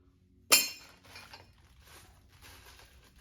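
Metal bolts clink sharply once as they are handled during work on a Chevy van steering conversion, followed by a few faint lighter rattles.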